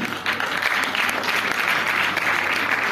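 An audience at a Punjabi talk on the Vaisakhi festival claps steadily, a dense burst of applause that stays loud and even for a few seconds.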